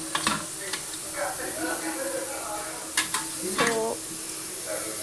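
Onions and capsicum stir-fried in a pan for veg fried rice, with a constant loud sizzle, a spatula scraping and clattering now and then, and a voice talking over it.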